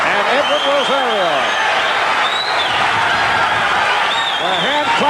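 London boxing crowd applauding and whistling after a lightweight bout between Frankie Randall and Edwin Rosario, dense steady clapping with loud rising and falling wolf whistles, continuous and close.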